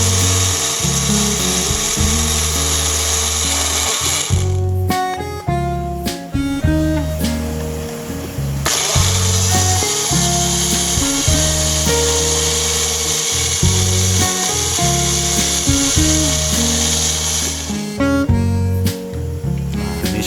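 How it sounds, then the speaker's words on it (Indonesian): Electric blender run in repeated bursts while preparing food for hatching artemia, loud close motor whine cutting off and restarting several times with grinding pulses, no speech. "Oke, kita akan blend. Berkali-kali ya kawan-kawan ya."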